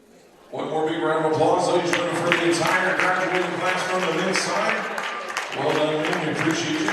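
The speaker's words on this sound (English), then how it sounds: "One more big round of applause, ladies and gentlemen, for the entire graduating class from the men's side." Crowd applause fills a basketball gym for a graduating class at a women's college game, a loud sustained roar that begins suddenly after a quiet moment and continues with a raised voice and tonal sound over it.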